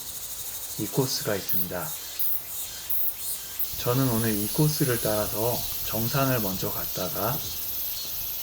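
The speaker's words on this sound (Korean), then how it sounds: "매미 울음소리도 아주 우렁차고요." Loud cicadas sing in a humid summer forest on a mountain hiking trail, a steady high buzzing drone throughout while someone talks over it.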